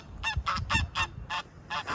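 Geese honk repeatedly in a rapid, uneven series of nasal calls, fairly close, with a faint low rumble underneath.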